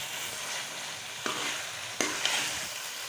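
Crushed mint being mixed into frying green chicken korma, a quiet continuous sizzle with two or three brief clinks of a spoon on the pot, close and free of talk.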